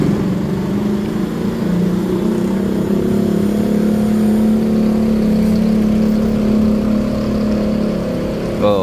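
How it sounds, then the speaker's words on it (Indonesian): A large intercity bus arrives and pulls in to park at Tegal bus terminal, its diesel engine a steady, close mid-pitched rumble with a slight rise in revs as it maneuvers. "Nah ini bisnya teman-teman datang."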